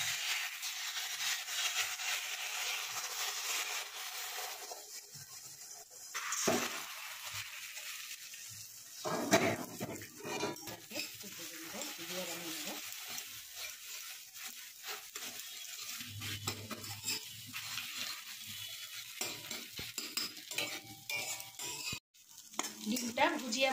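Beaten egg frying in white oil in a kadai, a steady sizzle with scraping and stirring strokes and a few clatters of a spatula against the pan, continuing for about twenty seconds with no talk.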